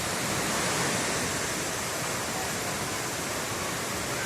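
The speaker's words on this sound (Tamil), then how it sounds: "தண்ணியோட சவுண்டு சூப்பராக இருக்குது" Panchalinga waterfall pours steadily in a broad, loud, unbroken rush, close by, with no voices.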